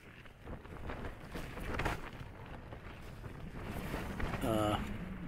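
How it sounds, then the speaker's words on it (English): Wind gusting outdoors on a Glencoe mountain, a loud, continuous buffeting rush against the microphone that rises and falls over several seconds, with a brief voice near the end. "So the wind's getting up a wee bit."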